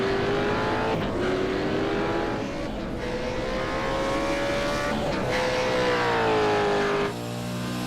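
A race car engine screams at high revs on a fast lap of Spa-Francorchamps in a sim racing game, a steady loud onboard drone with brief dips at gear changes and a longer drop near the end.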